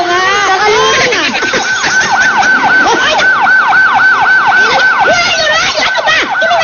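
An emergency vehicle siren wails loudly and continuously, cycling quickly through rising and falling yelps for the whole stretch, sounding close and dominating everything else.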